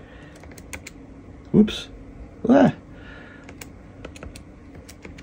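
Keys are tapped on a Radio Shack pocket computer, scattered light clicks spread across the clip, with a voice speaking briefly twice.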